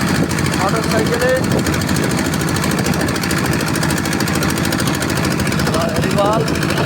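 Several motorcycles carrying pilgrims roll in together, a loud, rough, chugging engine drone that holds steady throughout, with voices calling over it.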